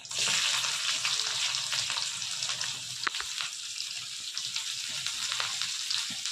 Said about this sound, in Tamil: இப்போ ஒரு கடாய் வச்சு அதில் எண்ணெய் ஊற்றிருக்கேன் இப்போ ரெண்டு பச்சை மிளகாய் அடித்து போட்டுக்கிறேங்க